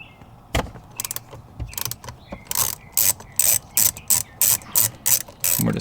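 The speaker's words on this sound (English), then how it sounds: "we're going to get our ratchet here" A ratchet on a Torx T30 bit loosens a screw on a 2011 Audi S5 airbag, giving sharp close clicking bursts that settle into a steady repeating rhythm of about ten strokes, with no talking.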